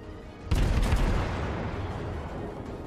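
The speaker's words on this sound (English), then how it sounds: "Keep lobbing shots at this guy for now." Tier 1 British warship guns firing in World of Warships, a loud booming salvo of several rapid blasts followed by a long rumbling decay that fades away.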